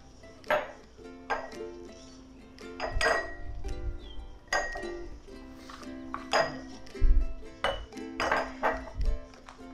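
Glass pickle jars clink and knock together as they are handled in a kitchen: a series of bright, ringing taps and pings at irregular intervals, close and fairly loud, with faint talking in the background.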